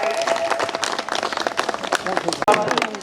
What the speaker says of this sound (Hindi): आप लोग कम से कम जोरदार तालियां बजाया करें